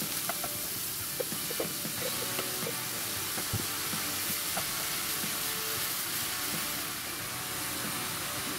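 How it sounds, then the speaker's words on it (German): Continuous sizzling of grated Jerusalem artichoke frying hard in a pan, a steady hiss with occasional small pops and crackles throughout. "jetzt kommen unsere Topinambur-Raspel dazu. Wir werden sie kräftig anbraten."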